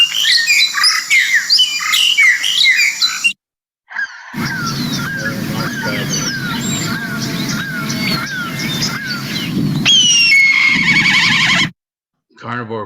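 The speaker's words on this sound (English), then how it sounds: "long-tailed starling" Busy, loud chirping and whistling calls of a long-tailed starling in rapid varied phrases, with brief silent gaps and a low rumbling background, in Botswana's Okavango Delta.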